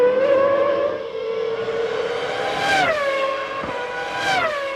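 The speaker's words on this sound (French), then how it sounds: "la McLaren Mercedes de Coulthard en profite pour forcer l'allure." David Coulthard's 1998 McLaren Mercedes Formula 1 car screams past at racing speed, a loud high-pitched engine wail that rises and drops in pitch as it passes, with a second car flashing by near the end.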